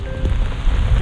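Heavy rain pouring down in sheets at a reservoir campsite, a loud, dense, continuous roar of water close by with no voices.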